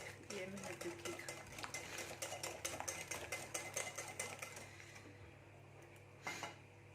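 Lemon cake batter whisked by hand in a bowl, with rapid rhythmic scraping and clinking of the utensil against the bowl over a steady background hum, easing off briefly before a final clatter.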